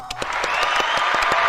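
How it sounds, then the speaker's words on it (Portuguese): A small group claps in quick, steady applause, with rapid scattered hand claps continuing throughout. "Uau, aplausos, né?"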